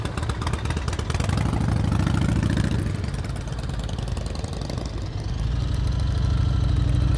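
A motorcycle engine idles and burbles at low revs during slow-speed riding drills, a steady near rumble that swells briefly mid-clip and again toward the end.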